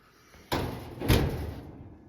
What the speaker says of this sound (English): And make sure the door is shut good.